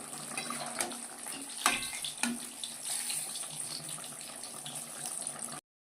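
Amudi fish dropped into a boiling curry gravy and stirred, giving a steady bubbling, watery hiss with a few sharp splashes and clinks, close and continuous throughout.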